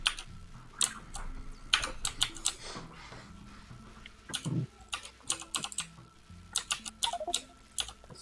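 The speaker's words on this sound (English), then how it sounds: "Your keyboard is extremely loud." Loud, close computer keyboard typing in irregular bursts of sharp clacks and pauses, picked up over a gaming voice chat with a faint fan hum underneath; no one speaks.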